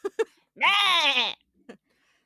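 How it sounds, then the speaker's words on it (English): A single loud, wavering bleat like a sheep rings out between a few short, clipped sounds, close and clear against silence. "And there's the sheep again."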